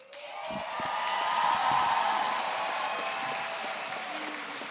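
A graduation audience applauds a class of high school graduates, giving a smooth, continuous wash of many hands clapping at moderate volume from a distance that swells and then eases slightly.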